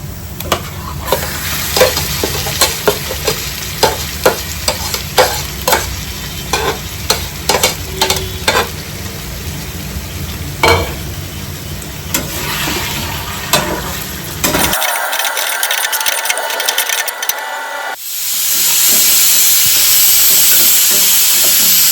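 Chicken fries with golden onions in a pan for bagara rice and chicken fry, a spatula scraping and clattering in quick repeated strokes over steady sizzling, then a loud, continuous hissing sizzle near the end.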